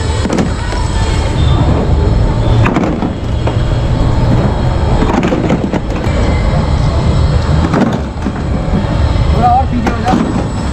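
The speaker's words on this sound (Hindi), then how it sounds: "देखो इस तरह यहाँ पे आपको ट्रेन भी मिल जाता है भाई" A small amusement park train ride at an amusement park in Delhi rumbles along with a steady clatter, while someone talks over it throughout.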